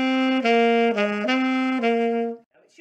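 Alto saxophone plays a melodic phrase from a song, a series of sustained, clearly separated notes with rich overtones, close and loud, played alone without talk before it cuts off.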